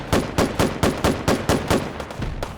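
Rapid bursts of gunfire from a firearm in the VR shooter H3VR, about a dozen sharp evenly spaced shots over a couple of seconds, loud and close with no talking.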